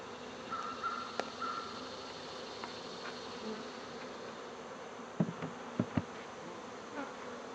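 A steady hum of honey bees buzzing around a hive fills the air, with occasional closer buzzes passing by and a few faint knocks.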